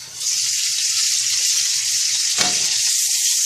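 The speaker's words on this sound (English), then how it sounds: "let it brown up a little bit so it doesn't splatter all over the place" A sausage link fries and browns in a single pan for a one-pan spaghetti dish, giving a loud, continuous, close hiss of sizzling fat with a brief scrape of stirring partway through.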